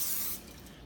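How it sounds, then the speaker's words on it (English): A short hiss of cooking oil sprayed from a can onto the top of bread dough, loud and close at first, then cutting off after less than half a second and leaving a quiet room. "I'm going to spray a little bit of additional oil on top"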